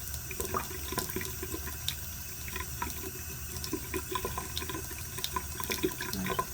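Hot water runs steadily from a tap over a liver of sulfur patina piece, a constant close splashing and trickling with small drips and clinks throughout.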